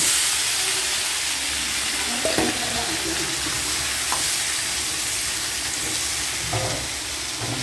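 Raw banana pieces sizzle and hiss steadily with onions in a hot pan of oil, a close, continuous frying noise with occasional soft knocks of stirring.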